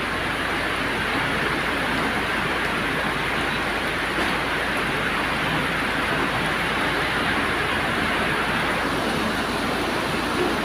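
Steady heavy rain pours down in a dense, unbroken roar, close and loud throughout with no voices.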